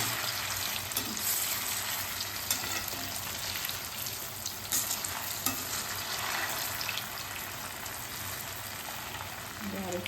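Dahi vada lentil fritters frying in hot oil, a steady broadband sizzle with faint bubbling that runs unbroken throughout at moderate level, no voices on top.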